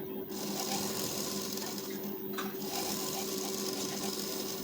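A sewing machine runs a line of stitching across a blouse lining, making a continuous whirring hum with a steady mechanical tone and a brief dip in pace about halfway through.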